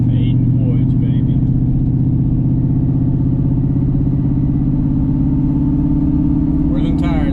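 A car on 16x10 wheels and 33-inch tires on a first drive, its engine and tire roar droning loudly and steadily inside the cabin with a low rumbling hum throughout.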